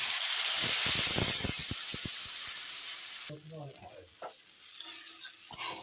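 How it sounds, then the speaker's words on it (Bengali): Tomato paste hits hot oil with cumin and cardamom for a chicken curry, bursting into a loud hissing sizzle with rapid spatter pops, then calming to a quieter fry with spoon scrapes and a few knocks against the pan. "টমেটো পেস্ট দিয়ে ভালো করে কষিয়ে নিই"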